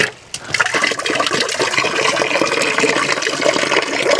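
Muddy stream water gushing from a pipe into a container in a mountain setting, a loud continuous rushing splash that starts abruptly and holds steady throughout.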